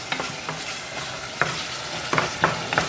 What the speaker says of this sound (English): Once in a while, I open it and stir it up.